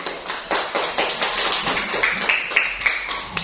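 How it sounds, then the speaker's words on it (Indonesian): A classroom of students claps hands together, a steady crowd patter of many overlapping claps, fairly close and continuous without speech. "Tepuk tangan."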